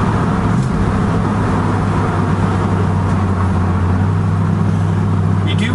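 A 1965 Ford station wagon driving, with a steady low engine drone and road rumble filling the whole stretch, loud and continuous from inside the car.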